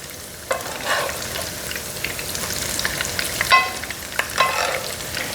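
Onion bites sizzle in hot grease in a frying pan, a steady hiss broken by a few sharp clatters as the pieces are turned.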